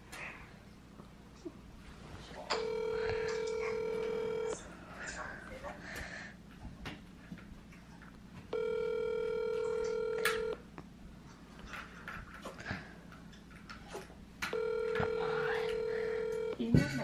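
A phone call rings out unanswered over a speaker, with three long, steady ringback tones evenly spaced several seconds apart and faint background voices and room noise between them.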